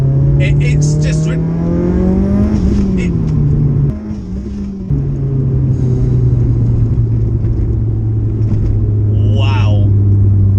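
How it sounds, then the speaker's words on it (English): A 600bhp Mitsubishi Evo 6 engine roars loudly and steadily from inside the car, its pitch rising and dipping as it pulls hard, with a brief gear-change drop midway and continuous heavy rumble throughout. "the car is very, very loud"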